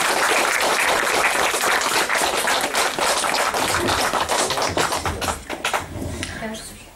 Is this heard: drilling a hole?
no